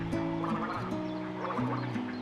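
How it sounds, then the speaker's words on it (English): Egrets calling from a treetop roost at a wetland nature reserve, a steady mix of harsh overlapping croaks and babbling notes heard at a distance, continuous and layered without pause. "I did manage to record some of the babbling sounds, as you've just heard, of the egrets up in the roost."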